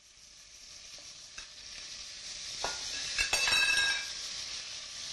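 Pieces of lamb stew sizzling in a pan as oil is poured in, a quiet frying hiss that swells over a few seconds, with light stirring scrapes and a couple of metallic clinks of a utensil against the pan.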